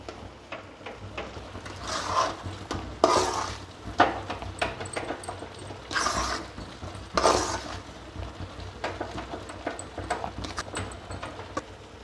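Semolina is stirred in a pan with cardamom and dry coconut, giving dry rubbing scrapes and occasional wooden knocks that swell and fade in an uneven rhythm.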